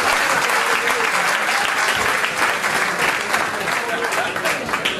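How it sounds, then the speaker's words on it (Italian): Sustained applause from the crowd at an amateur boxing match just before the opening round, steady and dense clapping that fills the whole stretch with no voices standing out. "applaudendo, signore e signori."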